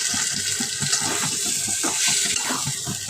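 Water runs and splashes steadily into a cooking pan of frying fish and flat beans with tomato, a continuous close pouring sound with no talk over it.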